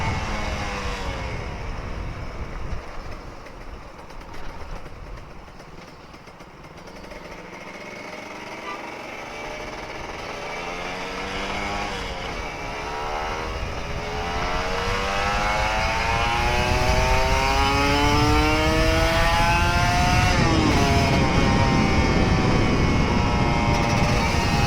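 A Kawasaki Ninja RR 150 motorcycle engine, an older bike left unused for two years, revs loud and close, its pitch climbing and falling in long sweeps before holding at a sustained high roar, with no one talking.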